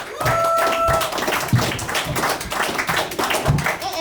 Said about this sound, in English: Y'all give a round of applause for Black Soul.